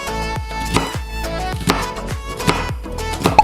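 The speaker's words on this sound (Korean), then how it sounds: "파프리카도 마찬가지로 채 썰어줍니다" A knife julienning bell pepper makes about eight crisp, evenly spaced chopping strikes at close range, with a steady tonal background underneath.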